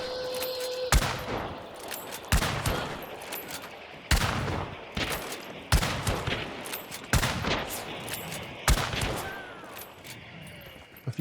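Gunfire in the Hunt: Showdown game cracks out in a series of loud, sharp single shots spaced a second or two apart, each with a ringing echo tail, over a quiet outdoor ambience.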